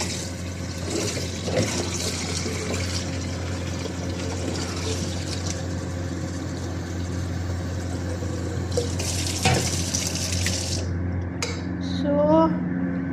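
Tap water runs in a steady, fairly loud broadband rush, as if filling a container, then cuts off near the end, leaving a few faint clinks.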